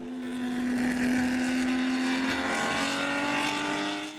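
A Ferrari 250 GTO driving on fast country roads, its engine note passing by steadily at moderate distance with a sustained tonal drone that rises slightly toward the end.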